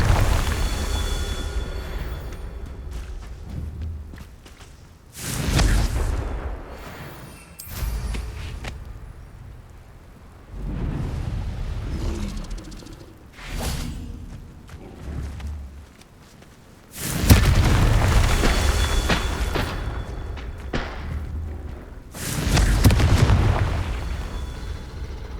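Spell blasts from the Confringo spell in Hogwarts Legacy boom out in several loud, separate explosive bursts with quieter gaps between them, heavy and close.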